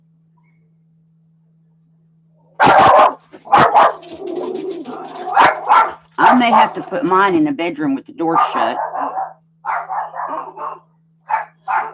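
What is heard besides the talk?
dog barking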